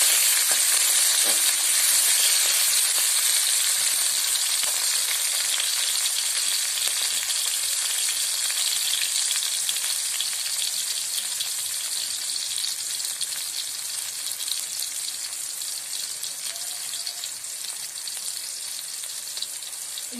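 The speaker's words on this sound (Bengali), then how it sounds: "লঙ্কাটা একটু ভাজাভাজি হয়ে আসলে কচুর শাকটা ছেড়ে দেবো।" Green chillies and garlic fry in a pan in hot oil, giving a steady, close, bright sizzle that carries on unbroken and eases slightly toward the end, with no voices.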